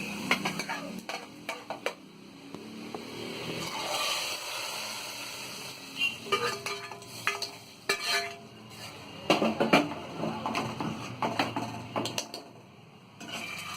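A hot tempering of fried onion is tipped into dal, followed by a spread of clinks, scrapes and brief sizzles as pot and utensils are handled close by, with no voices.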